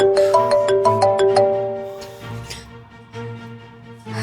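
A phone ringtone chimes in a quick, repeating melodic pattern of bright electronic tones, fairly close and clear over a quiet room, the ringing continuing steadily throughout.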